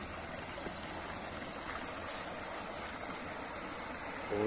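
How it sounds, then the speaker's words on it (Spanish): Cañaveralejo river in Siloé running at midday, a steady broadband rush of flowing stream water, constant and fairly loud throughout with no voices. "Y este es el río emblemático, el río Cañaveralejo."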